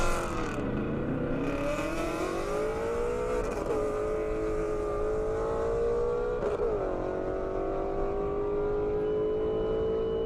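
Two drag racing cars, a 1969 Mustang Boss 302 and a GT350, accelerate hard on a half-mile airport airstrip, engines roaring loud and steady with rising pitch and gear shifts, continuous throughout with no talk.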